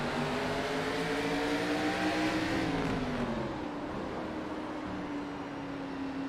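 A race car engine on a short track, heard from a nose-mounted camera, drones loudly and steadily with a shifting pitch as it eases off and rolls on, with no voices.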